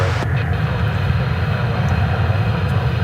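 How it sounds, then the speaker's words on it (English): American Airlines Airbus A321 departing Dallas Fort Worth for Tucson, a continuous low jet engine rumble that stays steady and moderately loud throughout, with no talking. "Here goes American Flight 2720 to Tucson,"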